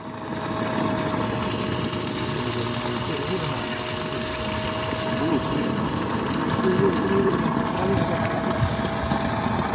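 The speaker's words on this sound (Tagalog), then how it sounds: "solar submersible pump ang pag-install ko dito sa Malinaw" A solar-powered submersible water pump running during a test, giving a steady mechanical hum and whine with a faint tonal whir, under a busy background.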